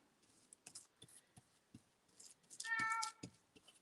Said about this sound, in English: Oh, you hear my cat?